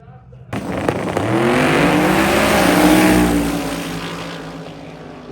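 A Camaro launches on a drag strip at a drag racing week event, its engine revving hard into a loud, rising roar that peaks and then fades as the car pulls away, with commentary over it.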